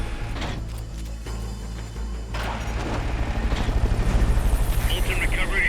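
A recovery helicopter in the video game Metal Gear Solid: Peace Walker drones in with a low rotor throb and mechanical whir that swells and pulses more strongly toward the end.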